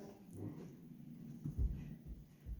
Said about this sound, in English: he's growling at my boot.